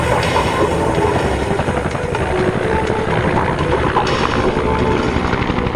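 A Bell UH-1N helicopter flies during a rescue simulation at the Skyfest 2022 airshow in Spokane, Washington, its rotor and engine drone loud, steady and continuous throughout with no talk.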